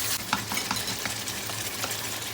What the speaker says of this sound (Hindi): फ्लेम हमारा हाई है, हाई फ्लेम पे इसको तकरीबन हम 5 मिनट के लिए भूनेंगे।